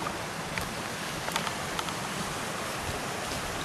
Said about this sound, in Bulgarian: Реката с раците е отляво.